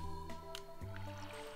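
A watering can pours onto crops in the farming game Stardew Valley, a short soft splash and trickle of water layered over steady game music.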